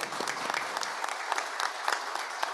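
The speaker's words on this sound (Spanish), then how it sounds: "Un aplauso." Audience applauding an Olympic medalist at a school physical education and sport talk, a dense, steady wash of many hands clapping with no voices on top.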